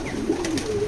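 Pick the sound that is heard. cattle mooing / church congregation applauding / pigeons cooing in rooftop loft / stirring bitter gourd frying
pigeons cooing in rooftop loft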